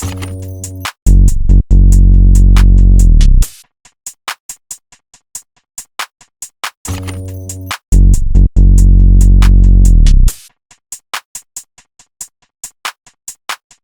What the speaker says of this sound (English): And then lastly, we got 2 different 808s playing.